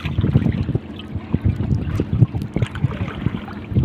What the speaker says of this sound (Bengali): বাতাস প্রচুর।